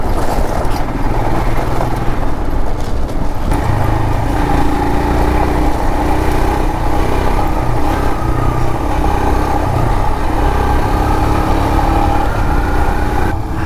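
Royal Enfield Himalayan motorcycle ridden on a rough roadless mountain track toward Zanskar, a steady loud single-cylinder engine drone with bumpy rattling and wind noise throughout.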